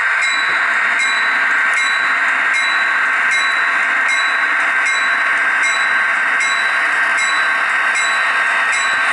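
An HO scale Intermountain SD40-2 model locomotive's sound effects throttle up, a steady electronic engine drone with faint rhythmic ticking, constant and loud with no talking.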